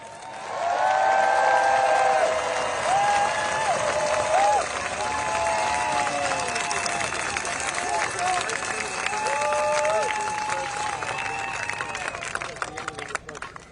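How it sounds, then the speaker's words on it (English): Protest crowd at the Lincoln Memorial applauding and cheering as a speaker is introduced, sustained clapping and whoops from a large outdoor gathering, with voices and crowd chatter mixed through and tapering toward the end. "Please give a warm round of applause for Jessica Denson."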